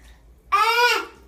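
A child in a bath gives a brief, bright babbling squeal over a splash of water being poured, lasting about half a second after a quiet start.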